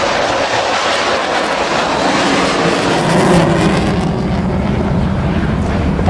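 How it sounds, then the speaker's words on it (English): A Hungarian Air Force Saab JAS 39C Gripen fighter jet roars loudly and steadily throughout its flying display at RIAT 2013 as it rolls upside down, with a broad, continuous jet-engine roar and no voices. "perform the aeroplane to its max capability as it rolls upside down this time"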